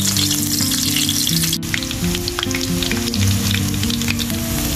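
Chopped garlic sizzles and fries steadily in a pan of hot oil heated for frying fish, a loud continuous crackle with no talking over it.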